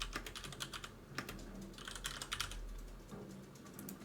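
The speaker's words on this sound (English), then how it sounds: "And now I can type in a new name" Rapid clicks of typing on a computer keyboard while renaming a folder in Google Drive, steady bursts of keystrokes close up against a low hum, with no talking.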